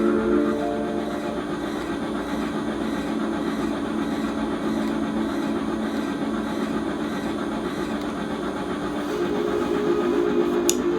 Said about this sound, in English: Let me get off this train.